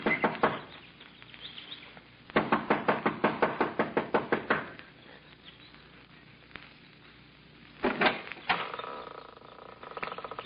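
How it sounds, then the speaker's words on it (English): Knocking on the front door of a lodge: rapid, impatient bursts of sharp wooden raps in several groups with pauses between, close and crisp, in an old radio drama. "She knocks impatiently"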